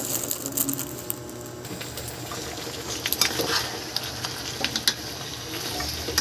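Udon noodles go into a pan of sautéed sardines and upo, giving a steady soft sizzle with intermittent clinks and stirring scrapes, close and moderately quiet.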